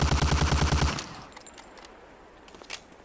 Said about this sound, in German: Schießen Sie jetzt mit der Thompson 20 Mal auf das Ziel.